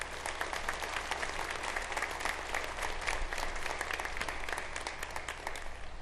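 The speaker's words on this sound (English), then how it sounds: "Let's give them a round of applause." An audience at a Caltrans workers memorial applauds the families of highway workers killed on duty, a steady, dense round of clapping heard at a moderate distance with no talking over it.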